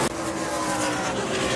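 ARCA race cars roaring around the Milwaukee Mile oval, a steady loud engine drone from a close car passing through the corner at full throttle.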